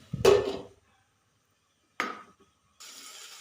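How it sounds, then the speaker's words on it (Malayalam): A lid set onto a cooking pot of onions for chickpea curry gives a sharp metallic clatter, then a second lighter clank, with quiet gaps between and faint hiss at the end. "ഇനി ഒന്നും കൂടെ മൂടി വെച്ച് കൊടുക്കാം."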